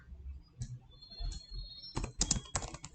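Typing on a computer keyboard while writing HTML list code: a few sparse, faint key taps, then a quick cluster of sharper keystrokes near the end, with no talk.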